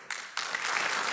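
Audience applause for a government minister at an official event starts abruptly, with scattered claps quickly building into full, dense clapping that continues to the end.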